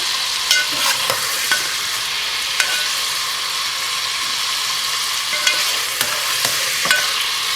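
Chutney chicken masala frying in oil, a bright steady sizzle broken by repeated stirring scrapes and spoon taps at irregular intervals, close and fairly loud, no speech.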